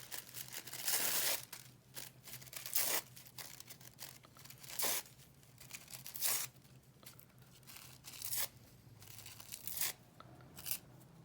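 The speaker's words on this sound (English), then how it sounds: "you're just gonna rip up your tissue paper" Tissue paper being ripped by hand into small pieces for an Advent wreath craft, a run of sharp tearing and crinkling bursts close to the mic over a low steady hum, with no talking.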